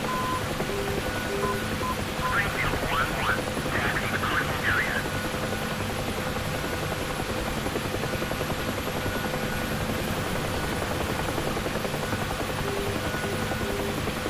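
A UH-1H Huey helicopter holds a hover in the DCS flight simulator, its steady rotor and turbine drone running loud and constant throughout with a brief chirping electronic tone early on.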